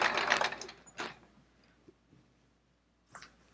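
A sewing machine stitches a free-motion quilted elongated swirl on a Charming Chevrons quilt in short bursts: a brisk run at the start, a quick second burst, a pause with faint clicks, then another short run near the end.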